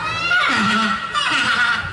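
A voice imitates a donkey's bray, a loud, strained braying call rising and falling over about two seconds, close to the listener.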